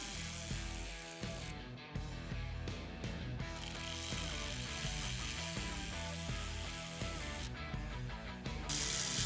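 A ratchet wrench tightens bolts back into a supercharger during an engine cam install, its rapid clicking pawl running almost continuously and close, with dense mechanical tones and no talk.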